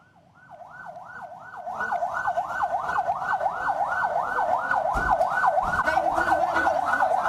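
An ambulance siren in Cipongkor, West Bandung, wails in a fast repeating up-and-down sweep, growing louder as it approaches, with road traffic noise underneath and no talking.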